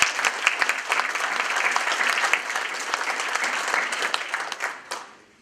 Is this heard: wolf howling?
no